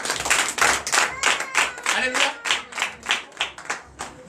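A church congregation at a Sunday service in Benin claps in a steady rhythmic beat, roughly two strong claps per second, loud and close, while a voice calls out over the clapping.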